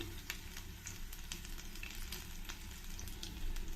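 Five or six green chillies and eight to ten cloves of finely chopped garlic fry in a pan for a little gourd and cashew curry, giving a close, steady crackling sizzle with scattered sharp pops and no talking.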